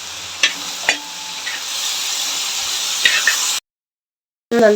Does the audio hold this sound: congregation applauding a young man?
no